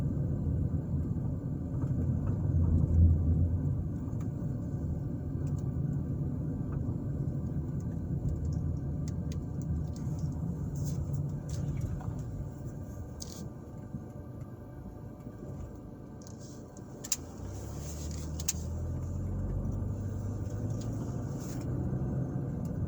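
Car driving slowly through the Manchester Estates condo development in Zionsville, Indiana, giving a steady low engine and road rumble with some wind noise throughout and no talking.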